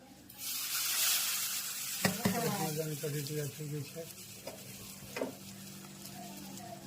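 Spices crackle in hot oil while tempering Gujarati kadhi, making a soft, close sizzle that swells early and then eases, as someone talks over it.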